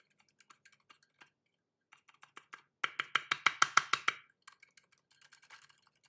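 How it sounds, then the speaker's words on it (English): Keystrokes on a stealth Tofu custom mechanical keyboard, typed hard enough to bottom out; scattered light taps lead into a fast, loud burst of about a dozen clacks, then sparse softer presses, close up with no talking. "Listen to this. Look, this is how I type, like seriously, I'm typing like this there."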